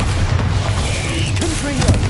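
Bombarda blasting spell from Hogwarts Legacy, a low booming explosion under dense game ambience, with faint rising tonal whooshes trailing near the end.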